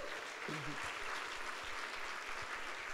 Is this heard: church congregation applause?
yes